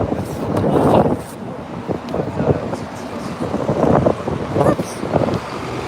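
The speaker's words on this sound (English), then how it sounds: "It's fucking windy." Strong wind buffets the microphone outdoors at a cleanup protest, coming in loud rumbling gusts that swell and fade over several seconds while a person speaks in short bursts.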